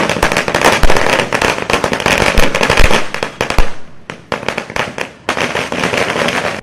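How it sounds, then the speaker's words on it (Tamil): Firecrackers burst in rapid crackling volleys at an outdoor celebration after a winning election vote, loud and dense for several seconds, then a short gap and sparser pops before the crackling picks up again. "முரளி அணியினர் பட்டாசு வெடித்தும் இனிப்புகள் வழங்கியும் கொண்டாடினர்"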